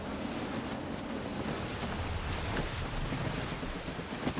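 Gusty wind and waves while sailing in the game Assassin's Creed III form a dense, continuous wash of surf and blowing wind with a low rumble, steady and loud with no voices.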